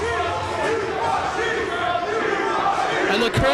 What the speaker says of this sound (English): And the crowd with that familiar chant.